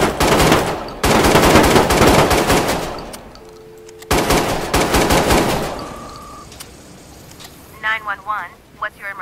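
Rapid bursts of shotgun fire aimed at a Cavale car in the video game Watch Dogs 2, loud and close in two long volleys with a gap between, followed by scattered quieter blasts.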